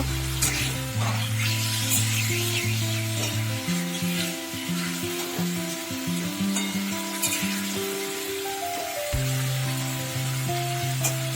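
Pre-fried pomfret pieces going into a pan of cooked-down spice masala, a continuous close sizzle with scraping and stirring over a steady tonal hum in the background.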